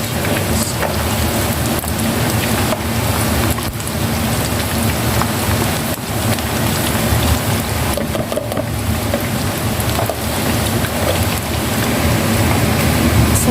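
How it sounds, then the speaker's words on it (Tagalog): Heavy rain pours steadily and loudly, a dense continuous hiss of drops drumming on surfaces with no pauses. "Ang lakas ng ulan dito"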